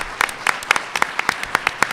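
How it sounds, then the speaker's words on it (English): A conference audience applauds its presenters, a dense run of quick claps from a modest crowd, loud and close throughout. "Just a round of applause for our presenters who are still here."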